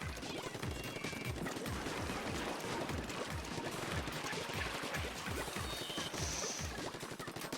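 Missiles launch in a rapid barrage in Splatoon 2, a dense train of quick pops and bursts running steadily the whole time over busy game noise.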